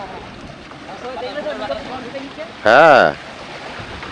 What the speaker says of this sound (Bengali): হ্যাঁ কি ঢেউ মারছে,